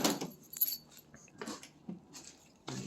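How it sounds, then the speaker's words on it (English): Keys jangle in a few short metallic bursts as someone hunts for them before starting a rally car with a dead battery, faint and close with quiet gaps in between. "Let me find my keys."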